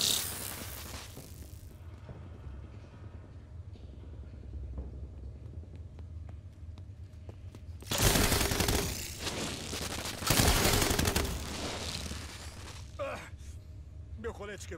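Gunfire bursts in The Division 2, a heavy sustained volley from about eight seconds with a second loud burst near ten seconds, following quieter ambient game sound and mechanical clicks; a voice speaks briefly.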